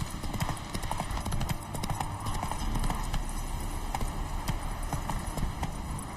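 A ridden horse's hooves clip-clop in a steady, even rhythm, close and clear, continuing throughout with faint background ambience and no speech over them.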